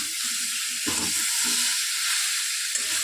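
Small mango pieces with turmeric and salt being stirred in a hot pan give a loud, steady sizzle and hiss, with a few scraping stirs breaking through at intervals.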